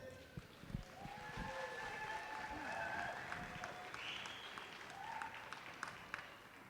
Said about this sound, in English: thank you for applause